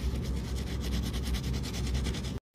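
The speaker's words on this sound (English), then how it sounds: "Now scrub a little bit, and your stain should be gone." Carpet stain scrubbed with carpet cleaner and foaming hand soap, a rapid rhythmic rubbing scratch of brush strokes, close and continuous, cut by a brief silence near the end.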